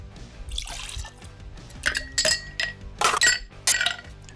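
Ice clinking against glass while an Old Fashioned cocktail made with Xero Wisdom, bitters and cherry bitters is stirred, with bright, close chinks and rattles in irregular bursts over a faint liquid slosh.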